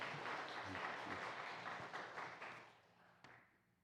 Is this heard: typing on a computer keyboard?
no